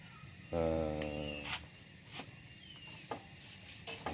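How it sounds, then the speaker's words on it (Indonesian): Sandpaper rubs over a scratched shock absorber on a Suzuki Thunder 125 motorcycle, a short scraping burst followed by quieter intermittent rubbing strokes, close and fairly soft. "Dan ini ada seperti shock yang baret ya bosku, dengan cara mengamplas itu."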